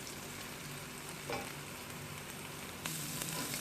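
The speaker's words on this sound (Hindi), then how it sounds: "लहसुन को ऐड करने के बाद मैं इसे इतना कुक करूंगी कि इसका कच्चापन ख़त्म हो जाए" Garlic sizzles quietly in a pan with oil for corn rice, a soft steady crackle with a couple of brief stirring scrapes, and no one speaks.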